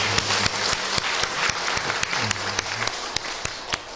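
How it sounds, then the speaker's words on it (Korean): A church congregation claps in praise during a Korean worship service, with dense applause under crisp individual hand claps that land in a steady, fairly regular rhythm throughout. "하나님께 영광의 박수를 드리겠습니다"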